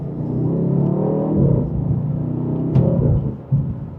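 2026 BMW M850i Gran Coupe M Heritage Edition in sport mode, second gear, engine rumbling low and steady as it accelerates, heard from inside, close and fairly loud with a brief thump near the end.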